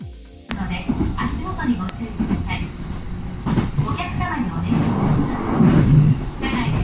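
A train at a Tokyo railway station rumbles steadily throughout, a continuous moderately loud rolling noise with platform ambience and some voices.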